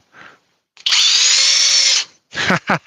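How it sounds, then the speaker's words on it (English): A DeWalt power drill whirs at high speed for about a second driving a screw, between short bursts of nearby talk. "Just show the people how fast that drill is doing one of those flat locks."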